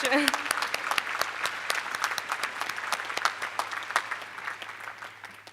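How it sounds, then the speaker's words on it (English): Audience applause at a university senior graduation celebration, sustained even clapping from a sizable crowd with a brief voice at the start. "That deserves a round of applause."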